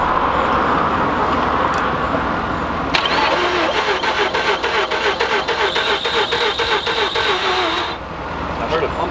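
Car engine cranking without catching, a steady rapid starter chug of about five seconds over loud background rumble and noise, with no firing.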